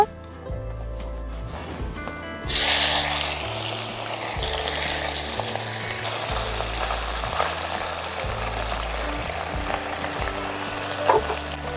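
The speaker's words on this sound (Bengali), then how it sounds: "মাছগুলো এখন ভেজে নেব।" Small puti fish, coated in turmeric and salt, hit hot oil in a wok and burst into a loud, steady sizzle that keeps crackling close up, with faint background music beneath.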